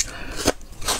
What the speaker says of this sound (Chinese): 嘎嘣脆。